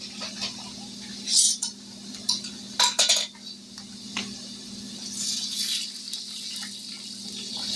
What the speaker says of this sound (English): now we're going to pour in the beef broth